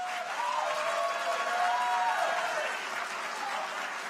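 Steady audience applause fills a conference hall at a global forum, a dense continuous clapping from a crowd that holds roughly level throughout, interrupting a speaker mid-remarks.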